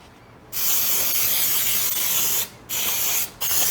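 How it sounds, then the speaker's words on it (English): Cooking spray hisses from a can onto a cake baking pan in three bursts, one long blast followed by two shorter ones, close and loud. "I'm going to spray my whole pan."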